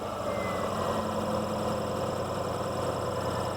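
A car engine running rough at idle, a steady, slightly uneven low rumble and vibration, continuous and close, with no talking.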